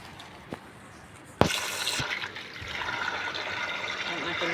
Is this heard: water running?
yes